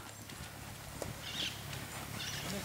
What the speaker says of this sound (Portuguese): Ei, cavalo!